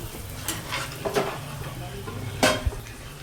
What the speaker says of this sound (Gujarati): ડુંગળીને સાતળવા દઈશું, ફ્રાય થવા દઈશું